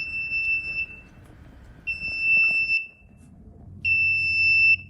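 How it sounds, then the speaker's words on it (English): Alarm of a Move XL UV sterilizer machine signalling the end of its run: three loud, steady electronic beeps, each about a second long, spaced a second or so apart, over low background hum with no talking. "An alarm will also sound, as it will at the end of a normal run, even without interruption."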